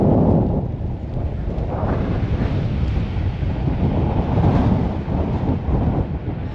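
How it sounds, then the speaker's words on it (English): Steady wind roars and buffets against a moving delivery car, a dense, unbroken rush that swells slightly and runs throughout without talk. "And we got the wind pushing us back."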